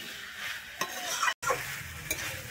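A spoon stirs and scrapes through boiled beetroot, carrot, peas and potatoes in a gently sizzling pan, with a few soft knocks against the pan and no voices.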